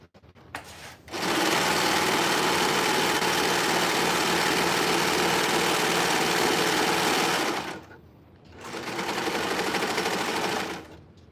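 A sewing machine stitches in a loud, steady close whir for about six seconds, pauses briefly, then runs again for a shorter burst.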